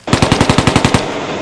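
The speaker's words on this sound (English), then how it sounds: "the triplanes dive on the Bristol fighter, and the British aircrew face yet another withering attack from the German aircraft" A loud machine-gun burst from WW1 fighter planes in a dogfight reenactment, with German triplanes attacking a British Bristol fighter. About nine rapid, evenly spaced shots last roughly a second, then a short fading tail. No voices.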